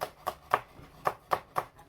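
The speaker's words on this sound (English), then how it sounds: "that really exciting thing of chopping spring onions" A knife chops spring onions on a board in a kitchen, six or so soft, evenly spaced taps, fairly faint, with no talking.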